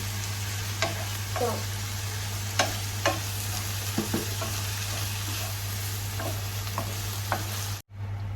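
Kofta cooks in a pan with a little added water, sizzling steadily, broken by several sharp spoon scrapes and stirring clicks, before cutting off abruptly near the end.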